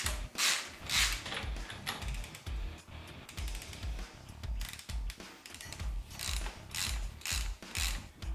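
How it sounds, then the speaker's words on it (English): A ratchet wrench loosens the stock indicator clamp bolts on a Suzuki Intruder VS1400 cruiser motorcycle, giving rapid close metallic clicking in repeated bursts with short pauses between strokes. "I'm going to loosen up the indicator clamps here, the stock indicator clamps"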